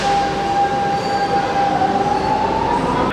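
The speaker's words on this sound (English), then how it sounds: "And these are the underground metro trains." An underground metro train in Lisbon rumbles steadily with a high, rising wheel squeal ringing over the noise, loud and close.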